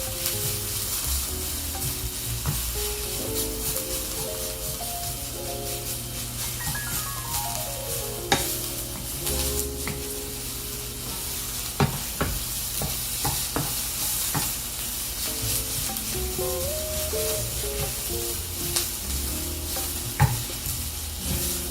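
Onions for chili sautéing in a pot, a steady sizzle and frying hiss with repeated scraping stir strokes throughout, close and fairly loud, with no talking.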